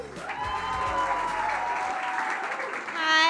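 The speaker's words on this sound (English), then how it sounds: "So warm round of applause for my Totem." Applause at a startup pitch night spreads as a soft, steady clapping wash, with a voice speaking over it and tonal hums layered through, swelling slightly at the end.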